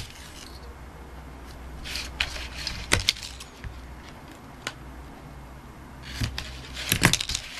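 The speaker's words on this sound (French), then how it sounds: "Alors je mets du scotch là en bas." Adhesive tape being pulled and pressed onto an album page while making a scrapbook album, heard as a few quiet, sharp crackles and rubs spread over a soft, steady room background.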